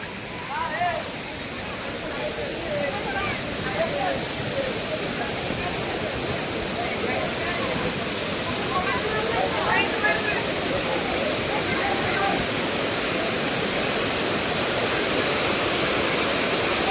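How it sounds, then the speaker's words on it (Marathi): Savdav waterfall in the Konkan roars as a steady, dense rush of falling water filling the whole scene, with faint crowd voices mixed in underneath at a busy, popular spot. "ये देखो गाइस सावड़ा वाटरफॉल"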